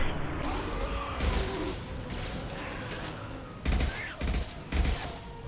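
Gunfire in the Mass Effect 2 Derelict Reaper mission against Husks on Insanity difficulty: a steady rattle of shots, then several loud, separate heavy bursts toward the end, close and punchy.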